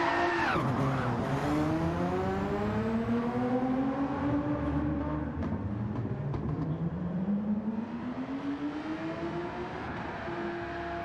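A race car in a sim racing game crashes and skids, its engine whining and sweeping up and down in pitch with a rough scraping tone underneath, loud and close throughout.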